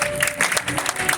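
A church congregation at a gathering claps together, a brief burst of dense, close applause, with some voices mixed into the crowd noise.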